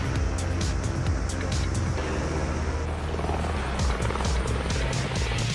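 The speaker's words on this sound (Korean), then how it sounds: "호수 위에 헬리콥터가 한 대 나타났습니다." A helicopter flies over a lake, its rotor producing a loud, steady whirring drone with a rhythmic chop that holds close and constant throughout.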